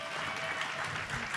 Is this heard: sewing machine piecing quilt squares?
no